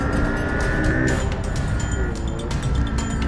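A go-kart engine in a racing video game, driving across rough desert terrain: a loud, continuous buzzing motor drone with shifting pitch and faint tire noise, steady throughout.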